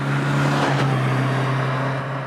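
A 1956 Alfa Romeo Giulietta Spider engine hums at steady high revs while driving, a loud sustained drone with a brief surge partway through.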